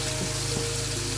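Onion dropped into oil heated for two minutes in a pan, giving a steady close sizzle and hiss with a couple of soft bumps, no talking.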